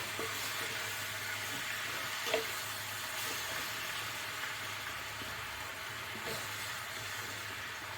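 Apples cooking in melted butter in a skillet give off a quiet, steady sizzle with a faint hiss, broken by a few soft clicks and scrapes from stirring.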